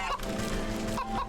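Goose honking in the cozy crafting video game Wytchwood, a sustained run of squawky bird calls with a few louder honks near the start and end, close and steady with no talk over it.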